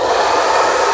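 A Pro1 hair dryer with a brushless motor blows steadily, a smooth airy whoosh with a soft motor hum, close and constant.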